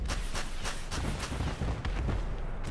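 Katyusha rocket artillery in the Crossout vehicle combat game fires a rapid series of sharp launches and booming impacts in quick succession, loud and continuous with no voices.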